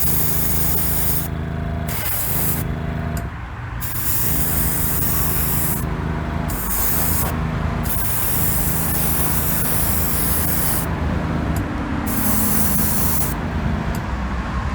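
Light tack coat of spray paint going onto a 1974 Hot Wheels Heavy Chevy Camaro: repeated close, loud hissing bursts from an aerosol can, separated by brief pauses, with no talking.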